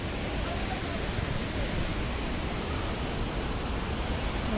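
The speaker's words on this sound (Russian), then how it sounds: "Текесский водопад собственной персоной." Tekes waterfall, a cascade of about five to six metres, roars as a steady, dense wash of falling water that stays loud and unbroken with no voices over it.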